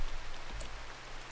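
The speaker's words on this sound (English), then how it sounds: "you know, it is raining." Rain falls in the RimWorld video game as a soft, steady patter with a faint low background hum and one brief brighter drip near the middle.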